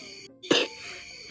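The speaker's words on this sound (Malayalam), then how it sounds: "അവളതാ ചുമക്കുന്നത്." A young girl coughs at home in the morning, two short separate bursts a moment apart, close and fairly loud against a quiet room.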